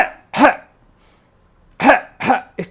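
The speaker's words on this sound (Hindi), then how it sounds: "इस तरह से खांसें।" A person demonstrates coughing: one close, harsh cough, a pause of more than a second, then two more coughs and the start of a fourth in quick succession, with no talking.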